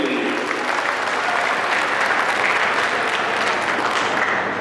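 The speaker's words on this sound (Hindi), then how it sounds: "जोरदार तालियां भाई रमन पटेल जी के लिए।" Audience applause at an oath ceremony for newly elected district officials, a dense, loud and steady wash of many hands clapping close by, sustained throughout without talk.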